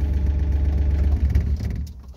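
A Yanmar B37 diesel engine runs under Arduino electronic throttle control, a loud, close, steady low rumble that shifts slightly toward the end.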